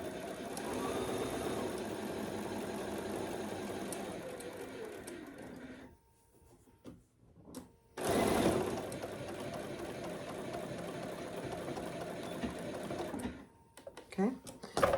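A sewing machine stitching a quilt pattern runs in steady bursts with a rattling, mechanical hum and an odd noise, stopping briefly before starting again, while a person talks over it.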